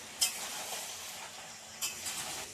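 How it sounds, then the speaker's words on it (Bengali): Meat with ground whole spices being sautéed for biryani gives a steady hiss of frying, with two sharp clinks of a spoon against the pot and light scraping as it is stirred. "মশলাটা দিয়ে ভালো করে কষিয়ে নেবো।"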